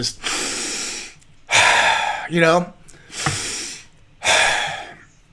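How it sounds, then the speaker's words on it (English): Forceful deep breaths as a breathing exercise, drawn in through the nose and pushed out through the mouth, four loud, close rushes of air in a slow, steady rhythm, with a brief voiced sound between them. "just in through your nose, out through your mouth, like, forcefully, like this"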